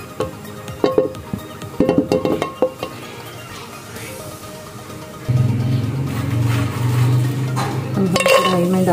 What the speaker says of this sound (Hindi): चलाते रहेंगे, फ्राई करना है इसको।